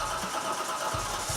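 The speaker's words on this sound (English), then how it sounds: "Start your engines." A hot rod engine cranks and catches, turning over with a rough, uneven mid-pitched chug that stays moderately close and steady.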